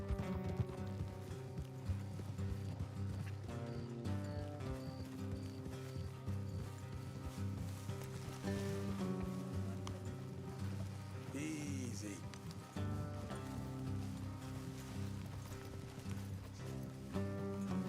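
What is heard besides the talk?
horse hooves on road, from a video game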